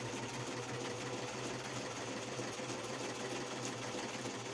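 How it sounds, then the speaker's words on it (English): A sewing machine stitches steadily through a scrap fabric pocket, its motor humming in a continuous, even whir with a fine mechanical rattle throughout, close and alone with no talk. "so finished sewing"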